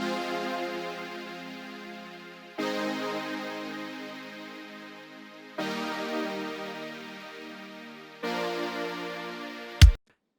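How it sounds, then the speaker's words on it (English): A buzzy detuned saw synth patch with unison in Serum plays four sustained synthwave chords, each fading slightly before the next, ending with a sharp click. "kind of a detuned saw patch coming from our bank unison in Serum"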